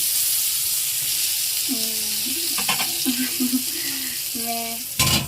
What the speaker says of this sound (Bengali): বেগুন ভাজাটা এখন হচ্ছে, বেগুন ভাজাটা হয়ে গেলেই খেয়ে নেব।